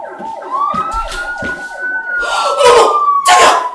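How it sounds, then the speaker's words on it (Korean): A police car siren sound effect wails during a stage play, a rising electronic tone with bursts of noise from the performance, while voices are faint beneath it. "어머 자기야 경찰차 왔어. 경찰차."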